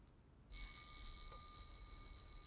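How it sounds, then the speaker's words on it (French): After a moment of near silence, a Jaeger-LeCoultre mechanical watch alarm starts: its hammer strikes a rapid metallic chime with a steady ringing tone that continues without a break. "nous allons lancer le déclenchement de l'alarme"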